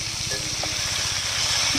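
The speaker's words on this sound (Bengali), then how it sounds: "মাছগুলো নুন হলুদ দিয়ে মাখিয়ে ভাজা হচ্ছে" Bain fish rubbed with salt and turmeric fry in oil over a wood fire, making a loud, dense and unbroken sizzle heard up close for the whole moment.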